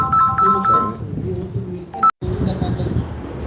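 Short electronic phone call tones, a few brief beeps mixed in with a person talking, then an abrupt cut before the speech carries on.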